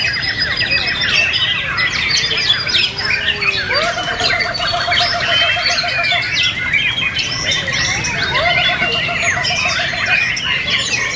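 White-rumped shama singing at a songbird contest in Vietnam, loud close bursts of varied whistles, chirps and squeaky trills with repeated rapid pulsed notes, other birds calling in the background.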